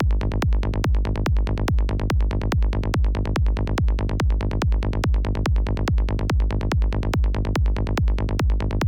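Psytrance kick drum layered with a noisy top hat on its transient pounds in a steady, fast four-on-the-floor rhythm, deep, punchy and loud throughout with no other sounds.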